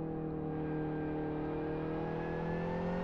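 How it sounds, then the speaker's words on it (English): Steady tonal whine of a car engine in the Live for Speed VR racing game, holding a smooth, slightly rising pitch with no voices. "That engine isn't too loud and you don't need it up a bit"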